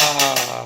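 An electric mixer grinder whirs at close range in a steady, loud motor drone, with a faint rhythmic pulsing through the short burst and no speech over it.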